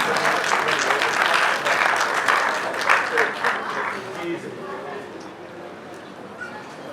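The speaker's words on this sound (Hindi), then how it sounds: "अमजद जावेद साहब वास्ते बहुत सारी तालियां।" Audience applause at a Punjabi book award ceremony for an award recipient, a broad clapping wash that is strongest at the start, then thins and fades away over several seconds.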